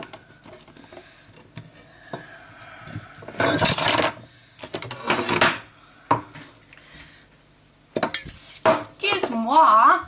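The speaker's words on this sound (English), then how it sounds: "I'll cut some more onions up." Onions being chopped on a board in a home kitchen, heard as irregular knife knocks and clattering bursts of dishes and utensils, with quiet gaps and a brief voice near the end.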